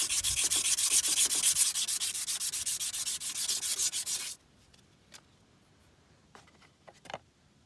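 Sandpaper worked by hand over a trailer axle to let a bearing fit, producing a loud, rapid, rhythmic rasping scrub for about four seconds, then stopping, followed by a few faint clicks and handling sounds.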